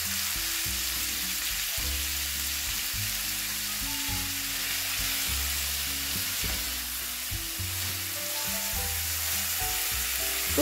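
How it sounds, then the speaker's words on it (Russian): Steady, dense sizzling of cabbage and chicken liver frying in a pan, continuous throughout with faint clinks and low background tones, no voices. "все обжариваем, протушиваем, вернее,"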